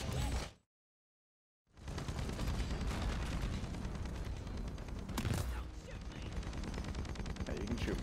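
Dense, continuous gunfire from the Deep Rock Galactic machine event, with an OMEN Modular Exterminator firing. It opens in a burst, drops into a second of silence, then returns as steady loud fire with a sharp crack near the middle.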